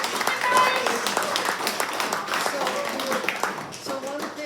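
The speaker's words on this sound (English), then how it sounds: "let's give Amy applause" A lecture audience gives scattered applause for a speaker, with irregular claps mixed with voices talking over the clapping.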